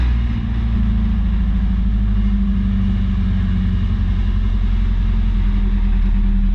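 A 1983 Toyota Celica with a 22R engine runs steadily at close range, a low, even rumble with a throaty pulse that holds for several seconds with no talk over it.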